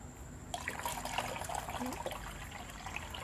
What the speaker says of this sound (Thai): ผสมยากันลากับน้ำนะครับ